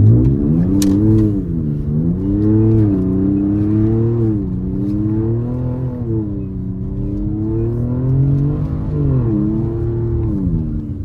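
A twin turbo Ford Taurus SHO drifts on a snowy road, its engine loud and close, revving up and down in repeated waves as the car slides, with no talking over it.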